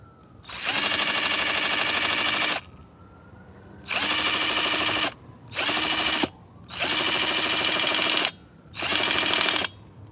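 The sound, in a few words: power drill running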